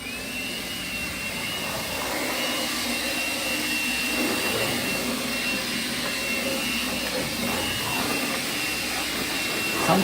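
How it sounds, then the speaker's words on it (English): A vacuum cleaner runs steadily inside an empty shipping container during outbound inspection cleaning, a constant droning whine with a high tonal line, close and continuous for the whole stretch. "we have to clean with a vacuum cleaner to remove any dirt inside the container"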